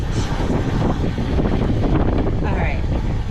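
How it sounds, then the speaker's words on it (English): Wind blows hard on a winter night at a campsite. Gusts rumble against the microphone in a continuous, roaring wash for a few seconds. "It sure is a windy night."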